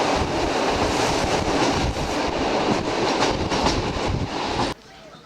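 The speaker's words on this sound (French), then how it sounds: "Nous sommes maintenant à la gare principale" A main railway station on a rail journey from Lyon to Romania, with a loud, dense rumble of trains and wind-buffeted noise that cuts off abruptly near the end.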